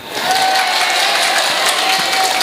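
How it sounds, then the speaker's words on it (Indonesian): A burst of applause from a mosque congregation at a Maulid Nabi gathering, steady clapping filling the whole moment without any voices over it. "Tepuk tangan buat istri-istri ini."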